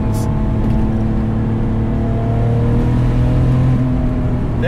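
A RUF 996 RTurbo, a 515 hp Porsche 996-based sports car, accelerates hard in third gear on an open road, its loud engine roaring steadily close by with a rising tone through the pull.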